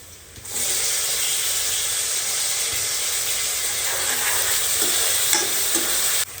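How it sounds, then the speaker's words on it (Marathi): Tomatoes dropped into a pan of frying onion and chillies, starting with a sudden loud hiss that settles into a steady close sizzle with a few faint stirring knocks, no talking. "मिरची थोडीशी भाजून झाली की त्यात टाकायचा आपण कांदा कांदा थोडस भाजून झालेलं आहे आता आपण टाकूया टमाटा"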